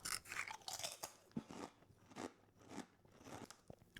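Close, crisp crunching of ridge cut crisps being bitten and chewed, a series of sharp crackly bites with short pauses, no talking.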